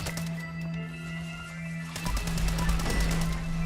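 Gunfire in Fallout 76 opens with a few sharp shots over a steady mechanical hum, then rapid repeated automatic fire takes over in the second half, loud and close.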